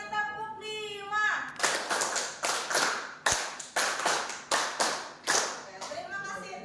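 A group of teachers at a school session claps out a Scout-style pattern of five claps done twice, in sharp, evenly spaced bursts. Speech comes just before and after.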